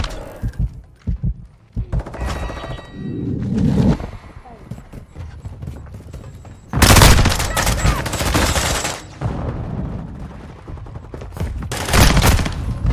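Bursts of automatic gunfire in Modern Warfare 2 Hardpoint on Breenberg Hotel with the Tempus Razorback, loud volleys separated by quieter stretches, mixed with radio-style voice callouts and game effects.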